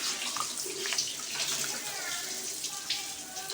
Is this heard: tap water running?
yes